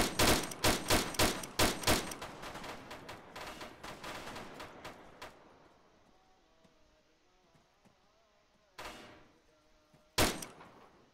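Gunfire in the military shooter Arma 3: a rapid run of loud, sharp shots, then quieter scattered fire, followed by two isolated close bangs after a pause.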